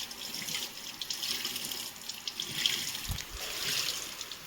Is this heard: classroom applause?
no